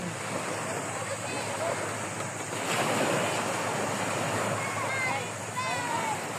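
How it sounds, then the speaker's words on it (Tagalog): Steady surf washes in continuously with a windy hiss, and faint bird chirps or voices drift through near the end. "Ang dagat."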